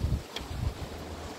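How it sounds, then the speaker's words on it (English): Gusty wind at a beach buffets the microphone in low rumbling surges, loud and steady with no voices. "it's a little bit windy."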